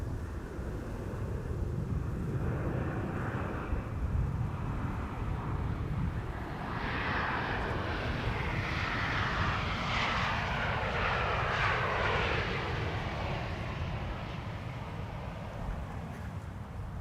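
A Boeing 747 jet airliner at Amsterdam Schiphol Airport with its landing gear extending, a steady loud engine roar that swells in the middle and holds for the whole stretch.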